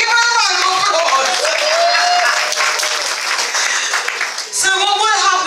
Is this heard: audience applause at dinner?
yes